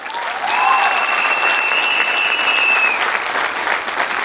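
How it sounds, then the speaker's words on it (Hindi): An audience applauds steadily and loudly for about four seconds, a dense wash of clapping with a few faint voices in the crowd. "एक बार जोरदार ताली।"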